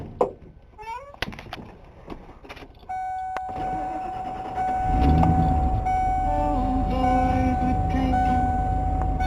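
A 1992 Ford F-150 engine cranks with a few clicks and rattles, catches, and settles into a loud, steady idle that rises slightly, recorded up close with a faint beep and tonal hum over it.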